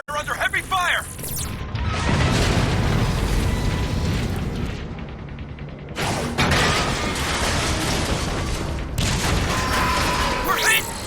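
Heavy fire and explosions in the video game Fall of Cybertron: rolling booms, crashes and mechanical clatter in loud, dense waves with brief gaps between them.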